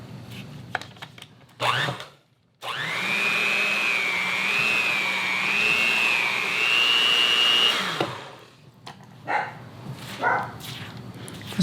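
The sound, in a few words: stand mixer mixing pie crust dough with shortening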